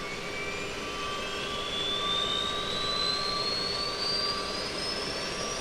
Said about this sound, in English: We can listen to the APU spooling.